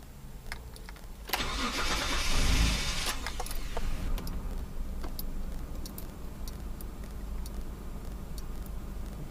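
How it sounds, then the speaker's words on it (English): A second-generation Mitsubishi Montero started with a key from inside the cabin: a brief cranking burst, then the engine catches and settles into a steady, close mid-pitched idle with faint clicks on top. "The engine is on. This is a Generation 2 Mitsubishi Montero."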